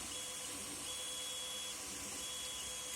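A modded Ender 3 Pro 3D printer at work printing a part with supports, giving a quiet, steady mechanical hum with a thin constant whine and no pauses.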